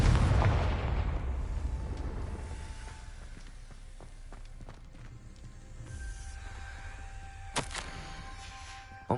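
A Confringo spell in the Hogwarts Legacy video game bursts with a loud opening explosion that rumbles and fades, followed by scattered smaller pops and crackles and a sharp hit near the end.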